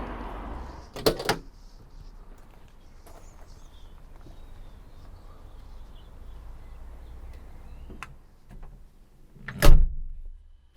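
An old Austin Allegro car door shuts with a solid clunk near the end, preceded by a couple of sharper handling knocks and faint shuffling in an otherwise quiet space.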